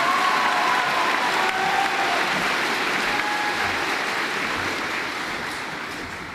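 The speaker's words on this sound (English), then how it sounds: "Please give a round of applause for Ms. Laura Brunner." A crowd applauds at a 2024 high school graduation ceremony for Nature Coast Technical High School. The sustained wash of many hands clapping is loud and continuous, then gradually softens over six seconds.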